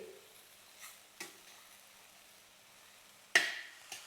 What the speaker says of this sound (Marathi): सगळे भाज्या आपण हे टाकून घ्यायचे बघा आणि भाज्या हे चांगले असे परतून घ्यायचे